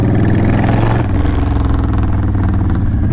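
A Honda Fury motorcycle engine rumbles loud and close, a deep continuous throb that steps slightly lower partway through, as if easing off the throttle, with no voices over it.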